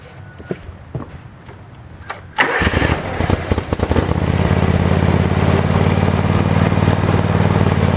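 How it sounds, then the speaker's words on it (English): John Deere 345 garden tractor engine cranked over and starting after a few quiet clicks, then running at a loud, steady idle to warm the oil, with no talk. "you'll want to start up the engine and let it run for a few minutes to warm up the oil"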